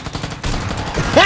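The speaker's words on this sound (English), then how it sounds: "I hear gunfire all around you" Rapid bursts of PUBG gunfire crackle in quick succession, loud and close, followed by a sharper burst near the end.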